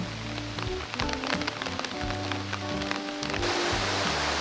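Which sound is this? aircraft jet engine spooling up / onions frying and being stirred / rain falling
rain falling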